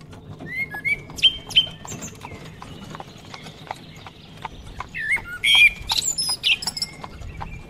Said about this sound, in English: Don't worry about those birds over there.